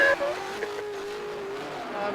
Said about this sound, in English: I want to know if you can drift slower.